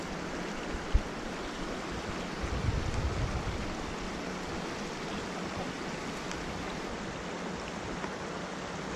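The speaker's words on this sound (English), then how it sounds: "this river is a very small, intimate, little creek, little river" A very small, intimate creek flows steadily, its broadband watery rush constant and fairly close throughout, with no talk over it.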